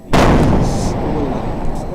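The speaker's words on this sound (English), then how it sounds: "A fireworks factory in Colombia suddenly exploded violently" A fireworks factory in Colombia explodes with a single sudden, loud boom, followed by a long rumbling roar that slowly settles.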